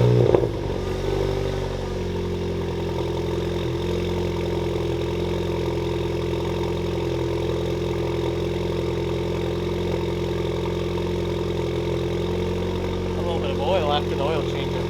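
A VW Golf R with an APR exhaust and IE downpipe settles into a steady idle after a cold start, beginning with a louder flare that drops to a constant low drone close by.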